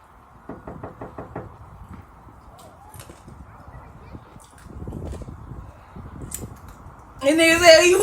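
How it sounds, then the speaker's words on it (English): Knocking on a door: a rapid burst of about half a dozen raps, then scattered thumps and movement, with a loud rustle at the end. "he was banging on the door"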